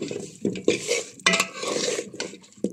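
Olives coated in turmeric and mustard paste, sun-dried, then stirred in oil in a pan for olive pickle: a series of scraping, clattering utensil strokes against the pan, close and fairly loud, with a faint sizzle between them.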